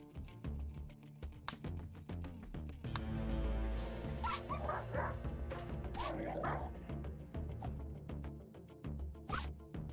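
A dog in the game RimWorld yelps and barks in short bursts over busy clattering game sounds, fairly close, with no voices.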